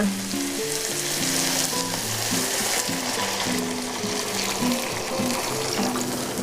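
Beef stir-fries in a pan as water is poured in, giving a dense, continuous, close sizzle with bubbling and a faint undertone of stirring.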